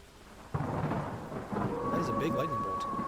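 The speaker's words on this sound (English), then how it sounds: "That is a big lightning bolt." A heavy thunderclap from a large lightning bolt in an anime scene cracks suddenly and rolls on, with steady rain pattering beneath it throughout.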